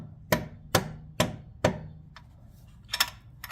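A hammer drives a bolt through the trailer hitch on a 2020 Can-Am Spyder RT Limited, four sharp metallic blows at a steady pace, then a pause and a couple of lighter taps, close and alone.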